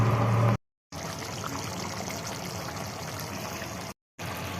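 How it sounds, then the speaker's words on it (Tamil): Steady bubbling and sizzling of a thick egg gravy simmering in a pan, continuous and close, with a couple of brief silent gaps. "ஒரு 2 நிமிஷம் கொதிக்கட்டும்"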